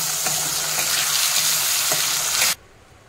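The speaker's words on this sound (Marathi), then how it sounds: "त्याच तेलामध्ये आता आपण हे वाटण टाकूया. चांगलं परतून घ्यायचं तेलामध्ये." Ground masala paste sizzling and frying in hot oil for a Marathi festive thali, a steady loud crackle with a few stirring scrapes, cutting off abruptly near the end.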